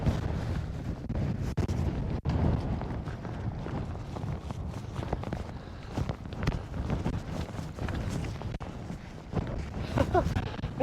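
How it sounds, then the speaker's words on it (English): Strong mountain wind buffeting a camera microphone, loud continuous rumbling gusts with a person talking underneath throughout. "So windy. The audio is probably totally fucked."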